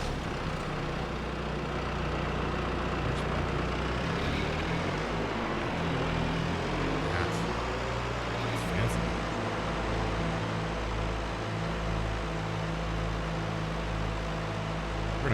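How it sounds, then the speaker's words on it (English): A John Deere 5R series tractor in a farming video game runs with a steady, loud engine drone that holds at an even level throughout. "We're gonna grab our little tractor."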